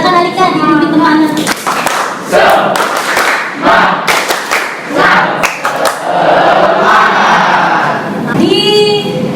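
Schoolchildren in a classroom perform a rhythmic spirit clap, with steady bursts of claps and shouted chants, loud and close, and voices mixed throughout.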